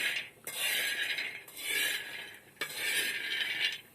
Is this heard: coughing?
no